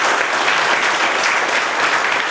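A training programme's closing audience breaks into loud, sustained applause, a dense continuous wash of many hands clapping close by with no speech over it.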